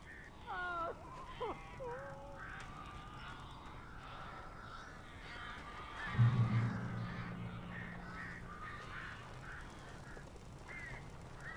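Birds caw in the video game Alan Wake remake, a few harsh calls early on, then quieter ambience with a low rumbling thump midway; the calls are fairly faint and spaced.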